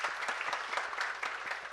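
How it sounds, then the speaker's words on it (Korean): Steady crowd applause from a lecture audience welcoming a guest instructor, a dense even wash of many hands clapping throughout with no talking. "박수 한번 부탁합니다"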